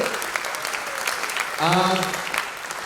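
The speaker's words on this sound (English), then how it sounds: "please clap loudly for everyone who has made today possible." An audience at a Pride event at Godrej claps steadily, a moderate crowd applause that swells slightly in the second half, with a voice briefly audible over it.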